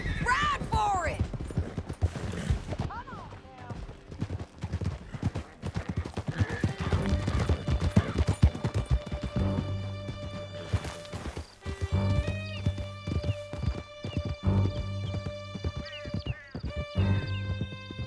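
Horses galloping through a canyon in Red Dead Redemption 2, with rapid clip-clop hoofbeats mixed with gunshots and game music, while characters shout over the action.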